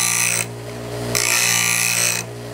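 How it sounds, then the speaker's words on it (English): A bench grinder shaping a hand plane blade, a steady motor whine broken by two loud, harsh bursts of grinding as the steel touches the wheel, close and with no talk. "So as I start to grind, I'll just touch the corners"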